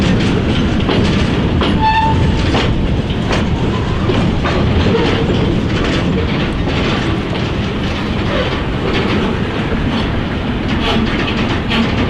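A Norfolk Southern freight train rumbles past at close range in Fort Wayne, with steady wheel noise and clatter and a brief horn blast early on, loud and continuous.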